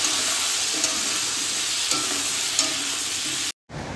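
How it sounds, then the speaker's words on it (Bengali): Potatoes and pointed gourd are stirred together in a frying pan, producing a loud, steady sizzle with faint scraping, briefly dropping out near the end. "পটলগুলো এখন ভালো করে তারপরে আলুর সাথে ভালো করে নেড়ে নিতে হবে"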